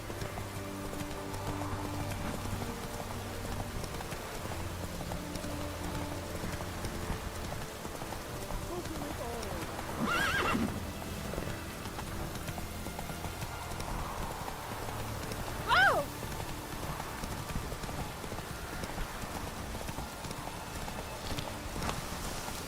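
Roach the horse in The Witcher 3 clip-clops along steadily with hooves thudding close by, and a short neigh breaks through now and then over a soft patter like rain, while someone talks intermittently.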